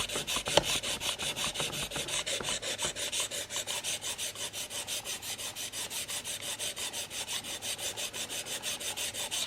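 A single bevel Annihilator broadhead scraped back and forth along a diamond sharpening plate, giving a steady, rapid rasping rhythm of close strokes that runs the whole stretch with no talking.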